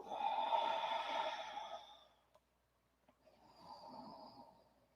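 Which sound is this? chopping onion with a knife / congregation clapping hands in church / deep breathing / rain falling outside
deep breathing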